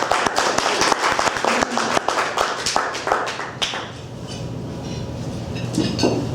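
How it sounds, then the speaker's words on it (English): Audience applause at a San Mateo Sunrise Rotary Club morning meeting, loud dense clapping from a room of people for several seconds, then thinning to scattered claps and room murmur. "So let's give a big round of applause for Jayne Hulbert."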